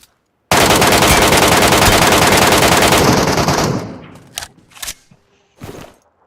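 A loud, sustained automatic-weapon burst fires for about three seconds in the battle-royale shooter Metro Royale, then fades into a few scattered, sharp single shots.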